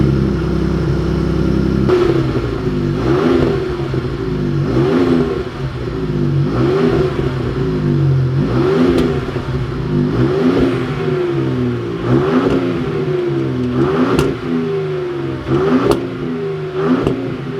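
A Ford Raptor with a V8 and Corsa exhaust idles loud and deep on a cold start, then gets blipped in about nine evenly spaced revs, each rising and falling, close by with no talking.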